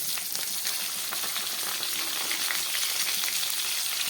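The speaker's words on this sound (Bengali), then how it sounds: "আমি দিয়ে দিচ্ছি এর মধ্যে চার পিস আলু আলুটাকেও খুব ভালোভাবে আমি কষিয়ে নিচ্ছি" Potato pieces and kohlrabi frying in oil in a pan make a steady, dense sizzle that stays close and even throughout, with no one speaking.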